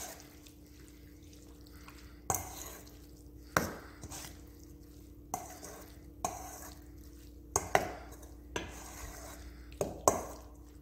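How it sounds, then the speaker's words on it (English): Shrimp, crab meat and sweet pickle relish stirred together in a bowl for a po boy filling, giving a series of sharp spoon-against-bowl clinks and taps spaced every second or so over a steady low hum, with no talking. "So I add the shrimp, then we have the crab meat, and I'm going to add the sweet pickle relish. And that's about half a cup. I'm gonna give that a stir."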